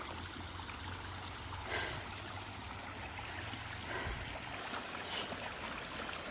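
Water from a mountain stream trickles and splashes steadily beside a high-country road, a constant close wash of flowing water with no one speaking.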